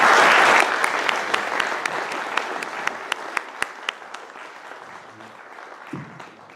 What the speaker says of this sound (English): please join me in giving a warm round of applause to Dr.